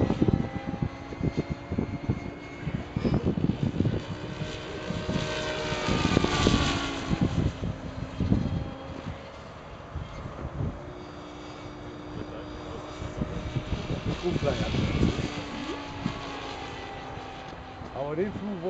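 A TDR Three Dee Rigid model helicopter engine runs at raised RPM, a loud, close, sustained whine with rising and falling pitch and a wavering hum. Occasional talk sits underneath.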